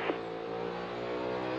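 NASCAR Cup Series race car roaring on a road course, a steady, loud, buzzing engine drone with a brief higher burst at the start.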